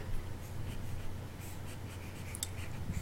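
A whiteboard or chalkboard being wiped clean of trigonometry working, steady continuous rubbing and scrubbing close by with no talk over it.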